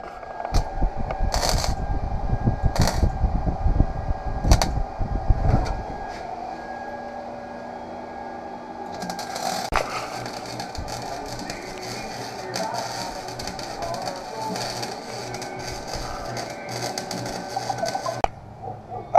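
A cut metal patch being tack welded into place, heard as a series of short crackling bursts over the first six seconds, followed by a steadier hum and clatter of work in the shop.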